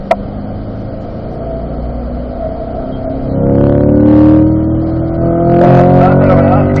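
A Chevrolet C8 Corvette on a race track at a performance driving school, its engine humming moderately before swelling loudly into a rising acceleration roar about halfway through, with a voice speaking over it.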